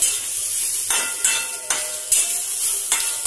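Onions frying in a small amount of oil and turning reddish-brown, with a steady bright sizzle broken by a few sharp scraping bursts as they are stirred. Nobody speaks.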